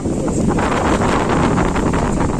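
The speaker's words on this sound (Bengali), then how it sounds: "প্রচুর হাওয়াও দিচ্ছে" A strong wind blows hard against the microphone, a dense steady roar with rustling gusts and no speech.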